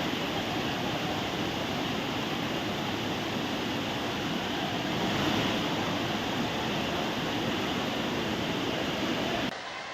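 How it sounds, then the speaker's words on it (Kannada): Floodwater rushing after heavy rain on Yellamma hill temple grounds at Savadatti, Belagavi, sweeping away bikes and cycles, heard as a constant loud, broad roar of turbulent water that ends abruptly. "ಮಳೆ ನೀರಿನ ರಭಸಕ್ಕೆ ಬೈಕ್ಗಳು, ಸೈಕಲ್ಗಳು, ಅಲ್ಲಿ ಏನೇನಿತ್ತು ಎಲ್ಲ ಸಾಮಗ್ರಿಗಳು ಎಲ್ಲ ಕೊಚ್ಕೊಂಡು ಹೋಗ್ತಾ ಇದೆ"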